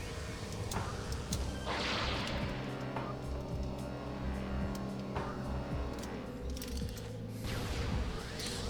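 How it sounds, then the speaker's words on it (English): Plasma shots from Samus's arm cannon blast a blood flower in Metroid Prime, a dense run of crackling bursts and booming impacts layered over a steady droning game soundtrack, with no pause across the stretch. "we can fire plasma shots at the blood flower and just incinerate it"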